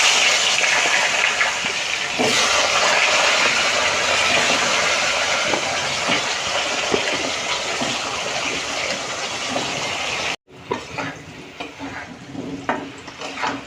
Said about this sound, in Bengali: তেলটা গরম হয়ে গেছে, আমি এখন আলুটা ভেজে নেব